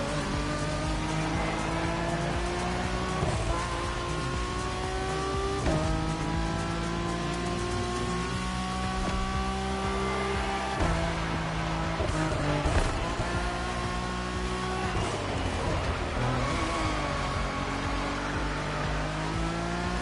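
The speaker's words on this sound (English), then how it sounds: "the lineup exclusively features the Acura NSX GT3" Acura NSX GT3 race cars in The Crew Motorfest on a track with long straights and tight turns, engines revving loud and steady, pitch climbing and dropping through gear shifts, several cars blending together without talk.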